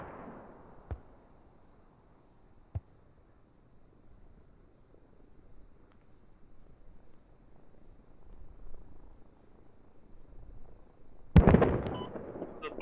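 A supply crate blows up in a realistic multiplayer shooter game: a sudden loud, close explosion near the end, preceded by quiet ambience and two sharp distant pops.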